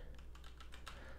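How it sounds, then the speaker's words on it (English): Typing on a Mac computer keyboard while entering a terminal command: several quick, light key clicks in an uneven rhythm, close up and quiet over a low steady hum. "the reason I'm typing zip"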